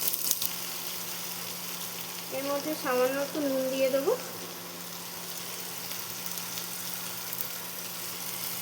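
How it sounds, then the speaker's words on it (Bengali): Onion, capsicum and tomato sizzle steadily in hot ghee in a kadhai, a continuous frying hiss running through the whole stretch while someone speaks briefly over it near the middle. "এর মধ্যে কেটে রাখা পেঁয়াজ, শিমলা মির্চ আর টমেটোটা দিয়ে দেবো, ভাজা করে নেব হালকা করে"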